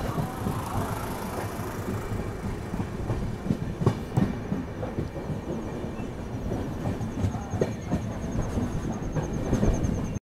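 The Tuticorin Express rolls out of Bengaluru toward Madurai, heard from aboard as a continuous loud rumble with rhythmic clickety-clack of wheels over rail joints and occasional metallic rattles.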